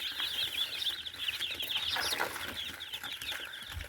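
Many small newly hatched crested and bearded chicks cheep continuously in high, overlapping peeps, fairly faint, with soft rustling underneath.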